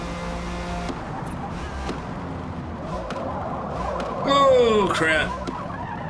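Tyres skidding after late braking in Forza Motorsport: engine drone, then a loud rising tyre squeal with a scrubbing screech. A man briefly exclaims over it.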